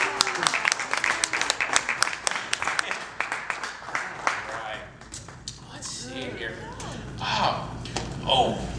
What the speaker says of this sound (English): Give yourselves a round of applause on that one.